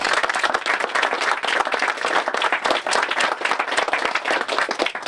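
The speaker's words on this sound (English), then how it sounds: "Let's give them a round of applause." An outdoor crowd at a groundbreaking ceremony for new sports fields applauds, giving dense, sustained clapping that stays loud and even throughout.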